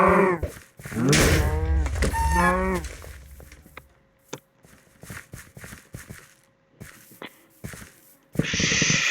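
A few loud synthetic cow moos in a video game, sounding as hits land, followed by quieter clicks and taps, then a sudden burst of noise at the end.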